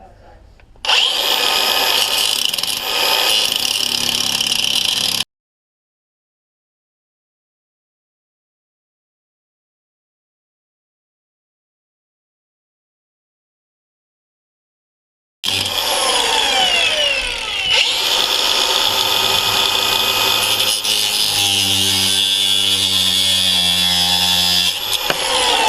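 A power tool cuts down a solar panel mount on a shed roof, running loud and close in two sustained bursts separated by a long stretch of silence.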